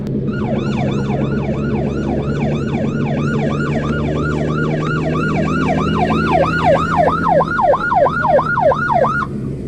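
A loud, close police siren yelps in fast repeated rising-and-falling sweeps, speeding up over several seconds above a low rumbling engine during a traffic stop.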